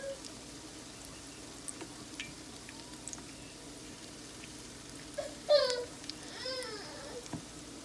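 King crab legs deep frying in oil give off a soft continuous sizzle with light crackles, while a voice speaks in short bursts in the middle of the clip.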